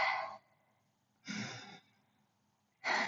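Three slow, deep breaths during a stretching workout, each a soft breathy exhale separated by quiet pauses, close and without talk.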